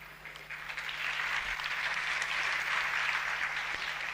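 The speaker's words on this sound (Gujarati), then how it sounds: "આ જે છોકરાઓ તાળી પાડે છે" Children clap together for about four seconds, a dense and steady patter of applause with no voices over it.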